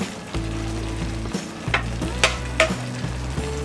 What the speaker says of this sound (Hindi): इस मिक्सचर को कंटिन्यूस स्टर करेंगे ये ड्राई होने तक